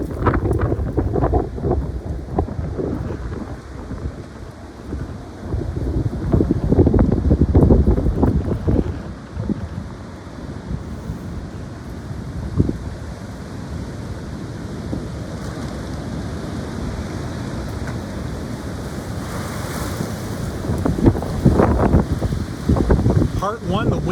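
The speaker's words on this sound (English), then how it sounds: "Part 1, the wind kind of died down, but now in part 2, it's really picked back up." Strong gusty wind roars outdoors in Rochester, rumbling and buffeting the microphone in loud surges that ease and build again, with brief voices in the mix.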